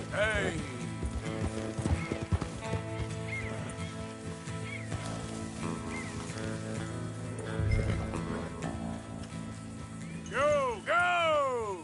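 Horses in Red Dead Redemption 2 whinny loudly several times and their hooves clip-clop steadily throughout, with a player's voice talking over the game sounds.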